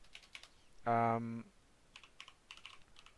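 Keys tapping on a computer keyboard as a label is typed, light clustered clicks close by, interrupted by a brief loud tonal beep partway through.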